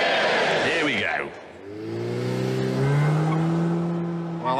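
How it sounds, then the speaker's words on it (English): A car driven hard around the Top Gear test track, its engine note rising and falling through gear changes with steady harmonic tones, loud and close, after a short burst of voices at the start. "Who'd like to see Boris's lap?"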